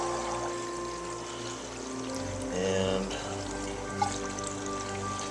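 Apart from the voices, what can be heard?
water from hose filling barrel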